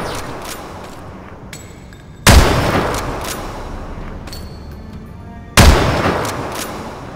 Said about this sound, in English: Please take the sniper rifle and eliminate the target.